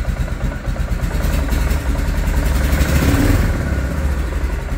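A Kawasaki Prairie 360 ATV engine runs at a steady, loud, close idle after its carburetor was cleaned, a continuous low mechanical rumble with a slight rise partway through and no talking.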